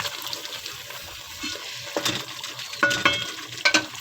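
Achari chicken karahi is stirred in a pan with yogurt, giving a soft wet scraping and gentle sizzle, with a few brighter utensil clicks against the pan toward the end; close and moderately quiet, no talk.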